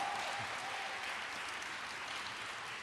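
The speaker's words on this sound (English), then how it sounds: "So give him a big round of applause." Seniors at a budget town hall applaud the mayor in a steady, even round of clapping that fills the room for about three seconds, heard from some distance.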